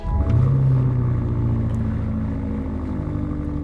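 A powerful, expensive BMW fires up with a brief starter whirr and then catches into a loud deep rumble that settles to a steady close idle.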